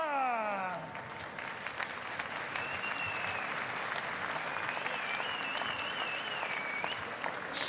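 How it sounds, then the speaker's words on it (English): A German crowd at a boxing match applauds between rounds, sustained dense clapping throughout, with a brief descending tonal sweep at the start and a thin whistling tone drifting above. "Sporting and respectful applause as ever from the German crowd."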